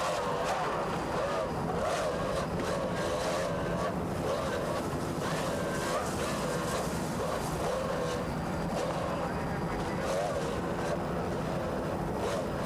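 Two 2.5 EFI outboard engines on racing powerboats at the 1994 South Padre Island Grand Prix, an APBA national race, drone steadily and loudly for the whole stretch, mixed with wind and water noise and no talking.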